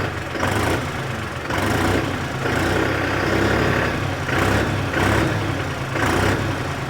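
A New Holland 5510 Excel 4WD tractor idles in neutral, its diesel engine giving a steady low rumble with a slight rhythmic pulsing throughout, close and fairly loud, with no talk.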